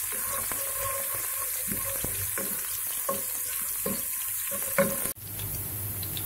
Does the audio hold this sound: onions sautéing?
yes